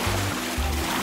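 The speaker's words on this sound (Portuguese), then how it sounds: "Eu não gosto quando a pessoa joga água em mim." Water splashes and churns in a swimming pool where children play, a busy continuous wash of splashing with two low thumping pulses, close by, with faint voices mixed in.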